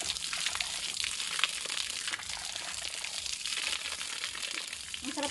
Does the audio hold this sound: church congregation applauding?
no